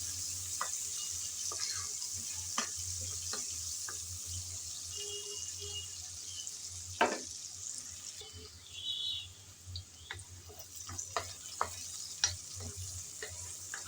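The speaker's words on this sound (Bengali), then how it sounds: "পেঁয়াজ কুচি দিয়ে হালকা ব্রাউন কালার করে ভেজে নেব।" Chopped onions frying in a pan: a steady, moderate sizzle under a low hum, broken by occasional stirring clicks and scrapes.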